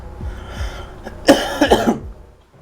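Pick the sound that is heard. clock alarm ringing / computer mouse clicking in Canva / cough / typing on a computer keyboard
cough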